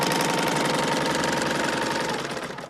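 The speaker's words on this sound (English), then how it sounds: "So I'm gonna sew this little line. This is a piece of cotton." Serger sewing machine stitching a line on a piece of cotton, a rapid loud mechanical whirring chatter heard close up and alone, tapering off at the end.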